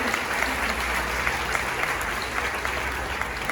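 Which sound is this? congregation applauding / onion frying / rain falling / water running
congregation applauding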